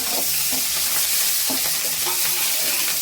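Onion, tomato and crushed garlic frying in a pan, a loud continuous hiss of sizzling close by with soft scraping stirs repeating underneath.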